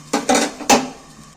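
Metal lid lifted off a pot of boiled spinach, two sharp clanks of metal on metal in quick succession, close and loud, ringing briefly then fading, with no voices.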